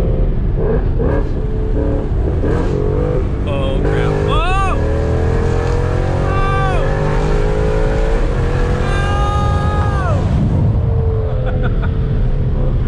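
A car accelerates hard from about 20 to 95, its engine roaring loudly up through rising gear sweeps with several shifts, close and continuous, while people inside exclaim over it.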